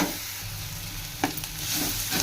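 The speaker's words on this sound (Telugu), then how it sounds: "ఈ విధంగా ఆనియన్ అల్లం వెల్లుల్లి పేస్ట్ కూడా ఫ్రై అయిపోయింది" Onion with ginger garlic paste frying in a pan, giving a steady close sizzle with a few brief stirring scrapes and no voices.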